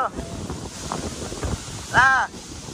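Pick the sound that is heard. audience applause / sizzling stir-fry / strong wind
strong wind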